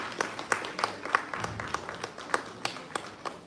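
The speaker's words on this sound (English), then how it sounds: "round of applause for Madam Sharmistha" Scattered applause from a workshop audience at an AI governance event, with sparse individual claps in an irregular rhythm, fairly faint and thin, as if from a small group.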